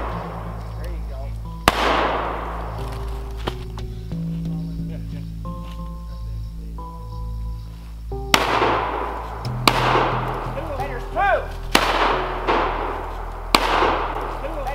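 Gunshots during a late-season squirrel hunt with dogs in Mississippi, several sharp, loud single reports spaced a few seconds apart outdoors, with people talking between shots.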